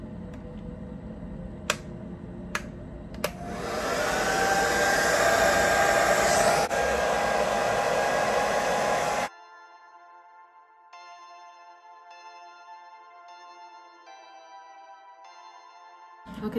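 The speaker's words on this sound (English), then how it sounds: "I'm gonna take my handy dandy diffuser and we're gonna diffuse the hair on cool" A hair dryer with a diffuser attachment dries hair, roaring steadily for several seconds after a few clicks. It then cuts off and a quieter, tonal background takes over.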